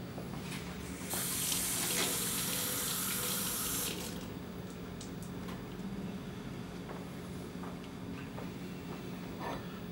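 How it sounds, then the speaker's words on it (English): Water runs from a sink faucet at a product demonstration for cleaning copper and metal. It gives a steady, close rushing hiss, with a louder, brighter gush for a few seconds early on, then settles to a softer continuous flow. "I'm going to go over to the sink behind me and just get it wet with water."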